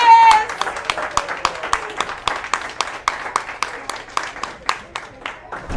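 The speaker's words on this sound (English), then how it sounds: "Applause from the war room." Applause from a small group of curling commentators in a broadcast booth at the mixed fours championship, many hands clapping in a steady, fairly close patter that fades out, with a brief voice at the start.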